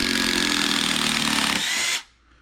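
A Makita DTD152Z cordless impact driver backs a 120 mm screw out of a piece of wood, giving a loud, continuous rattling whir that cuts off abruptly after about two seconds.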